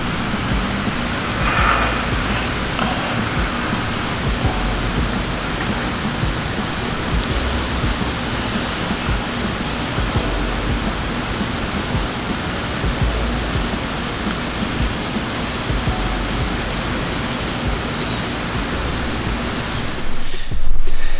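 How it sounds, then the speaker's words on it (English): Lawn sprinklers spray water across a grass lawn to dampen the soil, producing a steady, dense hiss of falling spray that runs unbroken at an even level with no voices. "let's turn the sprinklers on"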